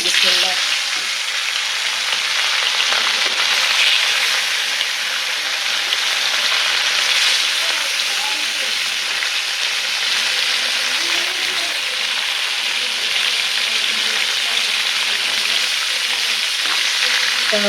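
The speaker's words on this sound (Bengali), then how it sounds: "তেলও দিয়ে দিছি, মাছ ভাজবো।" Tilapia fish fry in hot oil in a wok, giving a loud, continuous, close sizzle and crackle that holds steady throughout without a break.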